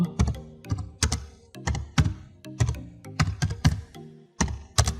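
Someone types a name into an online form on a computer keyboard: brisk, close keystrokes in quick bursts with short pauses between them, loud and clear, with no talk over it.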